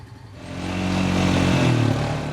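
Honda Fourtrax Rancher ES ATV, a 2009 fixed-axle model, riding with a steady, loud engine drone that rises slightly in pitch and intensity midway, close and continuous, with no voices.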